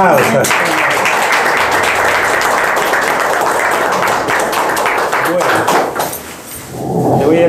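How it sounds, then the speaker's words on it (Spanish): Guests at a civil wedding ceremony in Santa Rosa applaud the officiant, a loud sustained wash of clapping with some cheering voices mixed in, dipping briefly near the end. "les brindamos un aplauso, un aplauso"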